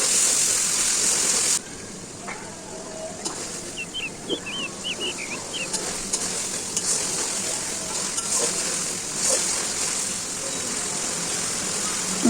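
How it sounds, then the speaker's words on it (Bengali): Potatoes fry in spice paste of salt, turmeric and a little sugar, a steady broadband sizzle with occasional stirring clinks, continuous and close, with no talk. "মশলাটা সুন্দর করে কষানো হয়ে গেছে, এখন আমি আলু দিয়ে আরও বেশ কিছুক্ষণ কষিয়ে নেব।"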